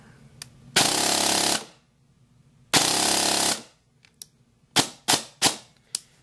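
A VFC MK18 airsoft rifle with an upgraded piston fires two loud, close full-auto bursts of nearly a second each, followed by several quick single clicks and snaps.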